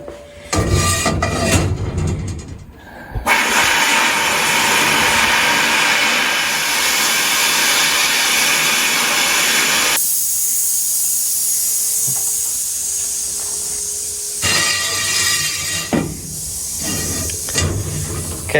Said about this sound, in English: So I'm going to take the wheel and put it into the media blaster.